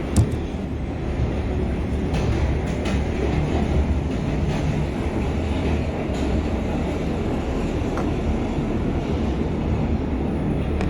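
A simulated NYC Subway R142A number 4 train in OpenBVE runs along the track with a steady low rumble and faint rhythmic clicks from the wheels, continuous and close, with no voices.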